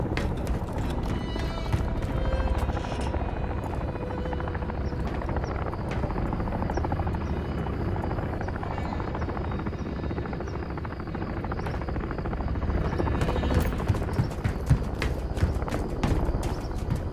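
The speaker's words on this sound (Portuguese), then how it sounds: "O helicóptero de ataque veio com tudo." An attack helicopter in the Call of Duty Modern Warfare III video game, a steady rotor thrum and whine that lasts throughout alongside rattling gunfire-like clicks and scattered battle noise.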